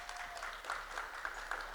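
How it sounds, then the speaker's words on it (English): A small gathering at a police air support unit event claps in a quiet, steady patter, a brief round of applause heard from a distance. "Please give them a big round of applause."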